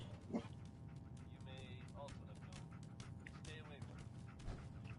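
A dog in a Fallout video game gives short yips and whimpers in a few scattered bursts, faint under a steady background hum and clicks.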